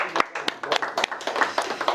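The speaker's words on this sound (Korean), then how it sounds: "박수 한번 줘" Students in a classroom clap together, a brief scattered burst of hand claps with uneven rhythm, close and fairly loud, with some voices mixed in.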